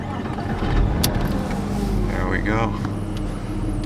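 A 2000 Porsche Boxster S engine cranking and catching, then settling into a steady idle, with someone talking briefly over it.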